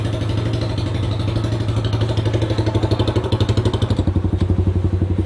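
Motorcycle fitted with an Akrapovic exhaust silencer, idling close by with a lumpy, rhythmic thumping exhaust pulse that quickens into a brief rev near the end, heard alone without talk.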